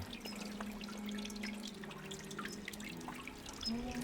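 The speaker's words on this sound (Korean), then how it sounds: "물방울 소리가 되게 좋아" Water drops fall steadily from the eaves of an outdoor museum building, a continuous wet patter of close, irregular drips with a low steady hum beneath.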